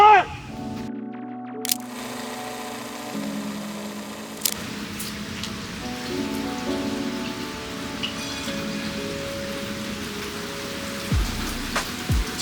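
Steady rain falls during a rain delay at a professional golf tournament, a continuous soft hiss of drops on surfaces with a few sharp clicks and knocks nearby; no thunder stands out.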